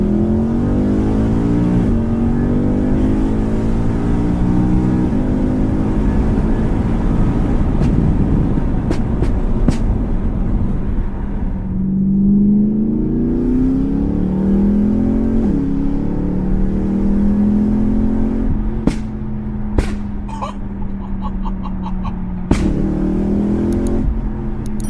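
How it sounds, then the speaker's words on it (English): A BMW M3 with a naturally aspirated V8, stage 2 remap and exhaust decats revs and accelerates hard through rising and falling gear pulls, loud and close, with a few sharp pops and cracks. "let the wonderful sounds of the naturally aspirated V8 coupled with the stage 2 remap from SA Tuning and exhaust decats do all of the talking"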